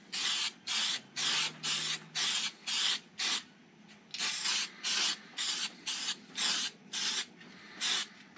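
Short bursts of spray paint hiss out in quick, regular pulses with brief gaps between them as a very light coat goes on, close and fairly loud, with no voices.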